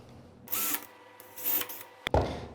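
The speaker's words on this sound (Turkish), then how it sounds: "Setle beraber gelen matkap ucunu matkabımıza takıyoruz." A power drill drills pilot holes through a hinge jig in two short bursts, followed by a click and a brief clatter, all fairly faint.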